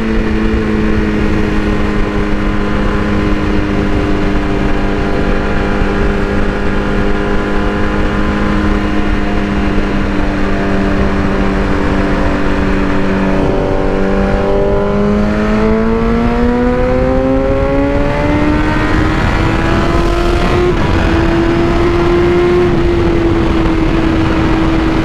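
A BMW S1000RR motorcycle is ridden with a loud, steady engine drone from its exhaust, plus heavy wind rush. About midway the pitch drops, then it climbs as the bike accelerates, and the engine holds at a higher note.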